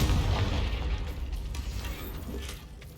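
A Confringo fire-blast spell in a wizard video game detonates with a loud booming burst right at the start, then a rumbling, crackling tail slowly fades out over the next few seconds.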